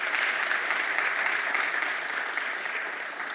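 An audience in a church applauds at a community gathering on gun violence in Howard County, a dense, steady wash of clapping from many hands that fades slightly toward the end.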